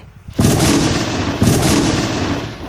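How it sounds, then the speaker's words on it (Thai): A loud gunshot-like blast at the start, followed by a second boom about a second later, each with a long rumbling tail. "เสียงปืนผู้ใดวะ"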